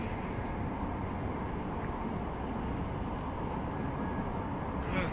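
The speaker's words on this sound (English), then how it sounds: "It takes forever this train," A train carries the passenger through a ride in Deus Ex: Mankind Divided, a dense constant rumble with a low hum that holds steady throughout.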